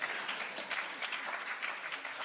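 Audience applause at an Emancipation Proclamation celebration at the Schomburg, a dense, steady wash of many hands clapping together, close and fairly loud, sustained without a break.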